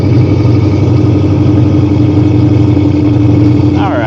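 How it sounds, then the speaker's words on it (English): A 2021 RAM 2500 Power Wagon with an aftermarket exhaust idles after a cold start, a loud, steady, deep rumble that stays even throughout with no revving. "why don't we do a cold start so you can hear this phenomenal exhaust."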